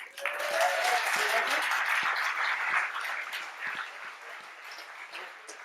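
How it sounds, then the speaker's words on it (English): Audience applause at a lecture on CRISPR genetic engineering, a broad crowd clapping that starts strong and holds steady, then slowly thins, with a faint voice briefly audible underneath. "Round of applause for Christina, please"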